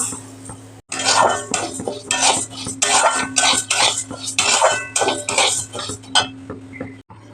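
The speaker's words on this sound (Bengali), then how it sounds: "দেখো ডালটা আমি ভেজে নেব" Lentils (dal) fry in a pot while a metal spoon stirs them in rhythmic scraping, clattering strokes over a low steady hum, close and loud with brief pauses.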